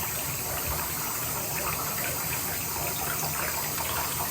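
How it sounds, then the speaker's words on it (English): Water sprays steadily from a handheld water pick used while bathing a chicken, a continuous close gushing hiss with no pauses and no voices. "this is called the water pick"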